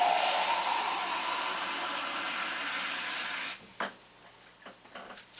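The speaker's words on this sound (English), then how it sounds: "I'll add some more water to bring the water up to the level of the wax." Cold tap water runs steadily into a container around cooling crayon wax for a candle, a loud continuous gush that cuts off partway, followed by a few small knocks and splashes.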